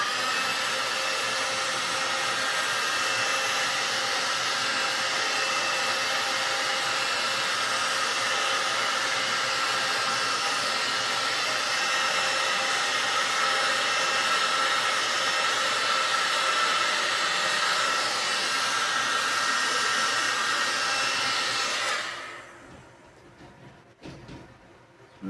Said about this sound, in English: Remember, you can use a hairdryer.